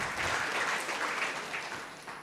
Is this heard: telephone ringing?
no